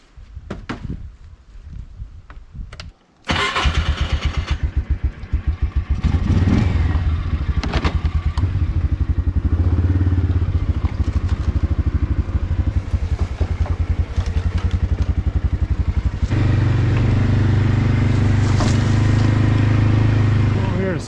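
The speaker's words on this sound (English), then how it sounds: "Here to start the mower up" A lawn mower engine with a mouse nest inside, at an off-grid homestead, cranks and catches abruptly, then settles into a loud, steady, rumbling idle that runs close and continuous to the end.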